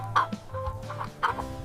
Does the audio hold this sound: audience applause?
no